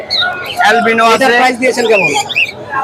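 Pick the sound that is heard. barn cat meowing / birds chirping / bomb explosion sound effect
birds chirping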